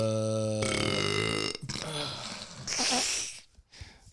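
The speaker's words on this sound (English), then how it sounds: "I'm glad we played that out to the belch." A long, loud belch rolls out over several seconds with a rough, vibrating, voiced tone that shifts in pitch, followed by a short breathy tail.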